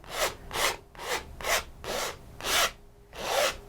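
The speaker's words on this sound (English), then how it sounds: "so I'm scraping this, but I'm also pushing it very much into the canvas." Paint being scraped and pushed into a canvas with a tool, seven rhythmic rasping strokes about half a second apart, close and clear, alone without talk.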